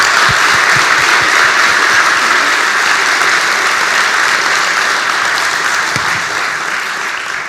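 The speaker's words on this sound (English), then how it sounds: "Please join me in giving Lisa another round of applause." A room full of people at a National Science Week evening talk breaks into sustained, dense applause that holds steady for several seconds before tapering slightly.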